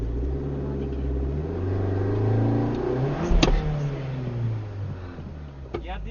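A Maruti Baleno's engine strains and revs as the car climbs a hill off-road, a steady low rumble rising under people talking nearby.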